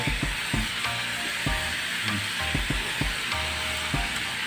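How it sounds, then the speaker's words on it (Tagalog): Carrots sizzle and fry in a pan for chicken macaroni soup, a steady close sizzle broken by repeated knocks and scrapes of a utensil stirring against the pan. "Mas ganda kasi gisang carrots"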